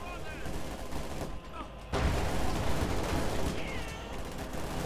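Grenade blasts and gunfire from a Company of Heroes 2 battle, with Panzer Grenadiers fighting, a dense, loud burst of explosions and shots that jumps louder halfway through, with a commentator talking throughout.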